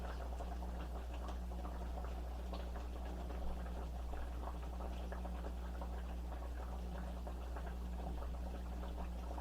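Gravy with cube steak simmering in a pan, a steady low bubbling hiss with faint soft pops, continuous and fairly quiet throughout with no talking.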